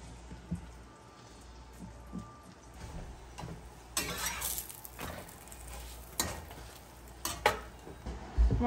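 Grilled cheese sandwiches cook in a pan with a soft, steady sizzle, while occasional clinks and scrapes of utensils and dishes come through nearby in a quiet kitchen.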